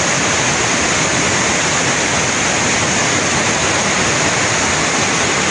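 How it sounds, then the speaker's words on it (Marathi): Water from the Tillari dam reservoir rushes out through all four open gates into the river, a loud, continuous, close roar of heavy discharge with no voices. "तिलारी धरणातील पाणी अशा प्रकारे आज बाहेर पडू लागलेलं आहे"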